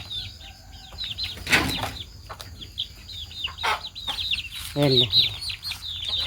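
Speckled (blorok) hen in a Javanese backyard coop, clucking in short bursts with a sudden flurry of wing flapping, amid other chickens and birds chirping; a voice speaks briefly.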